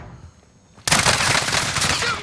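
A sudden, loud burst of rapid video game gunfire erupts after a quieter stretch and continues as dense, overlapping shots.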